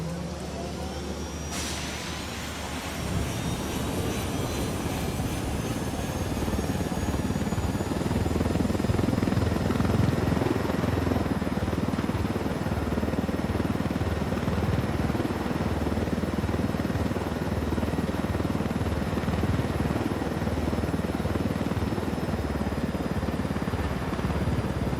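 Supply helicopters in the Ghost Recon Wildlands video game, a steady rotor thrum and engine drone that builds in the first seconds and then holds loud and continuous, with faint overhead whine throughout.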